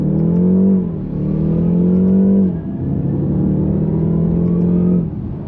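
A BMW 530e G60 hybrid saloon launches hard, its engine droning loudly and rising in pitch through three gear changes, heard from inside the cabin with no talking.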